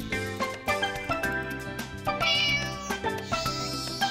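In the farming video game Harvest Moon: Light of Hope, a cat meows over and over in short repeated calls, clear and upfront above looping background game music, with no one speaking.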